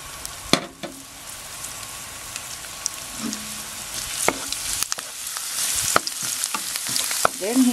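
Minced garlic sizzling in hot cooking oil in a pan for oysters adobo, a steady close frying hiss with occasional scrapes and clinks of a utensil, no talking.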